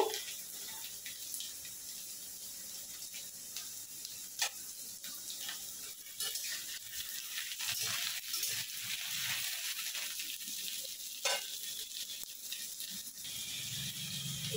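Potatoes and taro fry together in mustard oil, a continuous bright crackling sizzle with occasional sharper pops and faint utensil clicks, steady and close.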